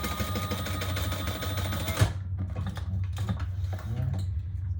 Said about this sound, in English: we're gonna stitch across the bottom